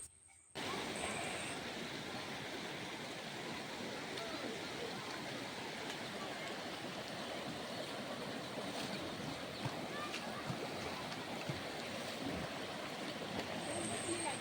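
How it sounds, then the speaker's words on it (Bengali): Floodwater flowing across submerged roads makes a steady, broad rushing wash that holds at an even loudness after a brief quiet start, with no clear breaks. "এই রাস্তাগুলোর ওপর জল বয়ে যাচ্ছে"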